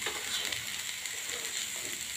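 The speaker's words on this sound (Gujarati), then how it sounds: "મસ્ત મજાની કોબી શેકાવા આવી ગઈ છે." Shredded cabbage for kobi paratha fries in a pan with a steady, even hiss and sizzle, a faint constant crackle with no voices.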